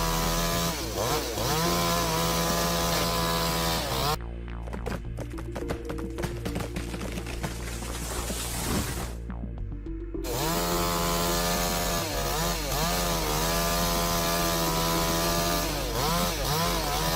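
A chainsaw cutting down a tree runs loud and close throughout, its engine droning steadily. The pitch shifts and the sound turns rougher as the chain bites into wood midway, then it settles back to the steady drone.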